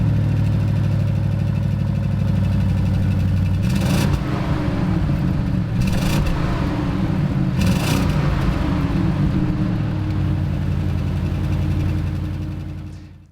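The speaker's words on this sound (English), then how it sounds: "This one, however, is a V8 bi-turbo petrol engine, 600 horsepower" An Audi RSQ8's 4-litre, 600-horsepower V8 bi-turbo petrol engine with RS special exhaust runs close by with a steady deep rumble, lifted by three short revs midway before easing back to a smooth idle and fading out.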